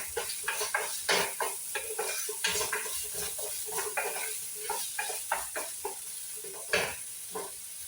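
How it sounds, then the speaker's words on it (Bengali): Chopped onion fries in mustard oil while being stirred, with a soft steady sizzle under frequent scraping and clinking of a utensil against the pan, fairly close and quiet. "সরষের তেল। এই যে পেঁয়াজ কুচি, ভালো করে নাড়াচাড়া করবো।"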